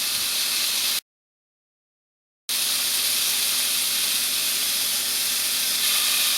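Bacon-wrapped filet mignon sizzling in a pan, a steady, hissing sizzle at moderate level that cuts out completely for over a second before resuming unchanged.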